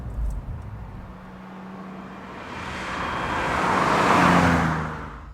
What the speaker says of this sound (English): You've got that wonderfully lumpy idle